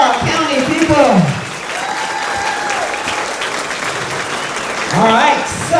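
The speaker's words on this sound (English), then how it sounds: "let's give a big round of applause for our county people" A crowd at a chamber of commerce celebration applauds loudly and steadily throughout, mixed with cheers and whoops. A voice briefly rises above it near the start and again near the end.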